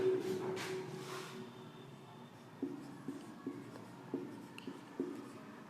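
Pen writing a capital city's name on a map, a series of soft scratchy strokes close by after a brief murmur of voice, each stroke a short separate rasp.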